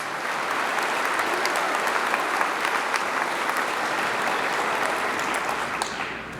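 Sustained, dense applause from a ceremony audience at a class day event, continuous and fairly loud with no talking over it.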